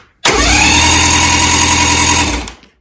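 A 1989 engine with a no-spark fault cranks loudly and evenly for about two seconds, a fast, steady churning whir that starts abruptly and then winds down, without catching.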